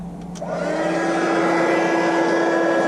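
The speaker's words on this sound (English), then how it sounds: "And now I'm going to heat emboss that." A heat embossing tool blowing hot air over embossing powder on a wedding card spins up after a brief click, then holds a loud, steady whirring hum with a rising whine, close and continuous.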